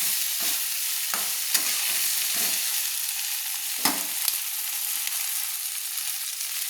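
Pieces of taro are turned in hot oil in a pan, giving a soft sizzle beneath a handful of spoon scrapes and knocks spaced a second or so apart.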